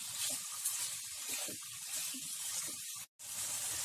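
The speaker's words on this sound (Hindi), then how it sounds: "इसे ऐसे ही हाई फ्लेम पे अच्छे से हम फ्राई करते रहेंगे थोड़ी देर के लिए।" Chicken in masala frying hard on high flame, giving a steady loud sizzle and hiss with crackling spits and one brief break in the sound.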